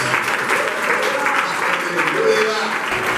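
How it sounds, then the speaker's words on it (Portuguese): A church congregation at a Brazilian worship gathering applauds loudly and continuously, dense clapping with voices mixed in. "Vamos aplaudir o Senhor."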